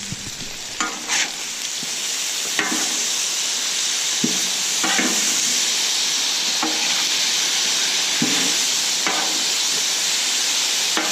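Sausage, peppers and onions sizzle steadily on a Camp Chef FTG600 flat-top griddle, a dense continuous hiss broken by occasional scrapes and stirring clicks from a spatula, close and loud with no talking.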